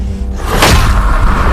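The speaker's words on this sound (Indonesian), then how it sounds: "suara ledakan tidak henti-hentinya terjadi" A single loud, deep boom bursts out and rolls on as a dense, rumbling roar, close and filling the short moment with sustained low-end force.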